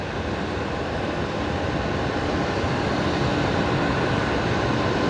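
An Emirates jet taking off at night at Brisbane Airport, a loud, steady broadband engine roar that fills the whole clip without fading, with no talk over it.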